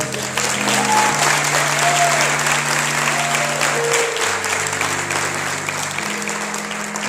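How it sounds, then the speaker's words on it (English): Dense, steady applause from a church congregation at a Bible conference held in a Baptist church, sustained at full strength for several seconds with a faint tonal hum beneath it. "Let's give them a round of applause."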